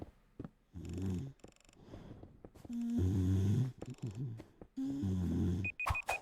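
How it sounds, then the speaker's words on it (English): A video game plays a cartoonish snoring sound in repeated loud, rasping breaths with a purring quality, followed by a few short electronic beeps at the end. "I didn't like that snoring sound."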